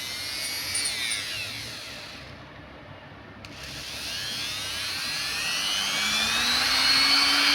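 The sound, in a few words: DF-6 electric enameled wire stripper running at maximum speed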